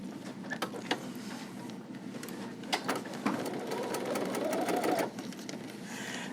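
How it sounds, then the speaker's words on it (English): A sewing machine top stitches a seam on a quilted zipper bag, its needle running in a fast, steady mechanical chatter up close, with a few sharp clicks and a brief pause before resuming. "So we're just going to top stitch that down."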